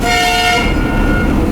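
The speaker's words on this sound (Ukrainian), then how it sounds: "А вот это свисток, а?" Train whistle blasting loud and close, a sustained shrill tone that cuts off partway through, leaving the rumble of the railway behind it.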